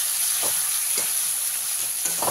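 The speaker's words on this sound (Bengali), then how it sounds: "ভালো করে মিশিয়ে নিয়ে মশলাটাকে ভালো করে কষিয়ে নেব।" Spice masala with tomato sizzles loudly as it is stir-fried in a pan for an aar fish curry, with a steady hiss and a few soft scrapes of stirring at regular intervals.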